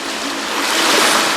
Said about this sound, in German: Also, schöne Wellen.